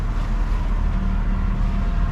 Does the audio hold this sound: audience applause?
no